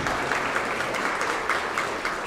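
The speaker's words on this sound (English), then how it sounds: "Let's give them one more round of applause for making this evening possible" An audience at a teacher of the year ceremony gives a round of applause to the evening's sponsors, a dense, even wash of clapping with no break.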